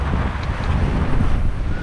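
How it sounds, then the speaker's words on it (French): Strong wind of around thirty knots roars across the microphone aboard a sailboat off Cap Corse, a loud, continuous buffeting gust with water noise beneath and no voices. "Regardez, il y a 30 nœuds de vent dans le cul d'un seul coup."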